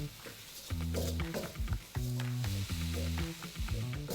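Beef nasi goreng sizzling loudly as rice is tossed in a hot pan, with bursts of crackling frying noise and clanging, scraping pan movements in an irregular rhythm.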